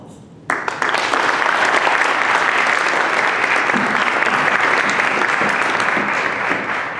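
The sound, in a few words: warm applause welcoming lecturer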